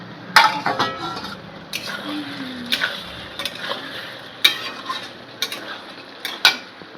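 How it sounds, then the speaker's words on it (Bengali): A lid comes off a pot of mutton curry in a home kitchen, with several sharp metallic clinks and clatters of lid and utensils against the pot over a low simmer, close by and with no talking. "এবার ঢাকনাটা তুলে নেব দেখবো কি পরিস্থিতি"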